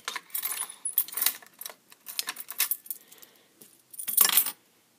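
Keys jangle and clink in several bursts close to the mic, irregular metallic rattles separated by brief silences, ending in a louder shake.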